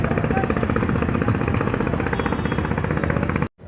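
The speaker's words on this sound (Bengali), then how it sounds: "এতক্ষণ আপনারা নদীতে ট্রলার চলার সাউন্ড পেলেন" Trawler boats running on the Buriganga river, a loud, steady, rapid chugging engine rumble close by that cuts off abruptly at the end.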